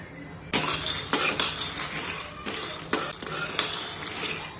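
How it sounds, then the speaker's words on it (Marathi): Shelled peanuts roasting in a pan on a gas stove are stirred with a utensil, giving intermittent scraping clinks and rattling bursts at a moderate, close level with quieter gaps between strokes. "मी शेंगदाणे जे निवडलेले होते, शेंगातून जे फोडलेले होते ना, ते मी असे एकदम भाजून ठेवते"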